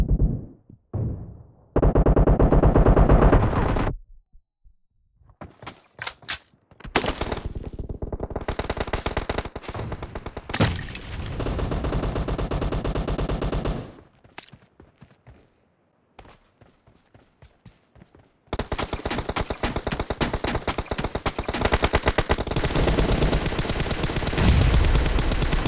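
Automatic and single gunfire from PUBG Mobile, loud bursts of rapid shots separated by short silent gaps, with a long sustained volley near the end and no voices.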